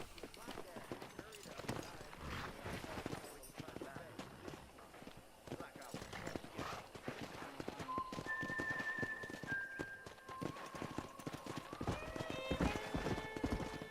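Steady clip-clop of horse hooves trotting along in Red Dead Redemption, with a horse whinnying and voices talking over a busy game soundscape.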